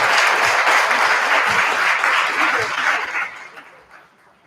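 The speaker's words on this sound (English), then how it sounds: "Let's give them a warm round of applause." An audience at a New Mexico Black business summit applauds panelists, a dense, steady burst of many hands clapping close by that fades out over the last second.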